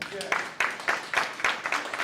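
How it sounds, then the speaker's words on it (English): An open mic night audience gives a short, modest round of applause, a few scattered claps with speech-like sounds mixed in, fairly faint. "Give her a round of applause."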